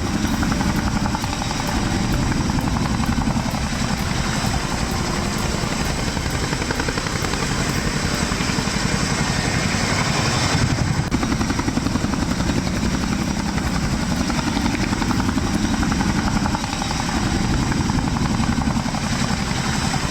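A Chinook helicopter arrives carrying rescued people after the Uttarkashi cloudburst disaster, its loud, steady rotor and engine roar filling the whole stretch without a break.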